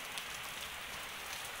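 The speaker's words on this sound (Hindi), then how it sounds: "आप देख सकते हैं बारिश कैसे हो रखी है" Monsoon rain falls steadily in a dense, even hiss of drops on surfaces, constant and fairly loud, with no voices.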